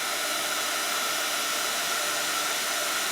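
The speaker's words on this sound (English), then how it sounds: "And then I take a heat tool. It is not a blow dryer and it's not a paint stripper. It's a heat tool." A craft heat tool blowing hot air down onto embossing powder to melt it, a loud, steady, unbroken roar of airflow held close for the whole stretch.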